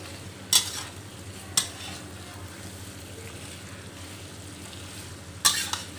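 Prawns being stir-fried in a fragrant sauce in a pan, a steady low sizzle with three sharp scraping stirs of the spatula, close and moderately quiet, no talking.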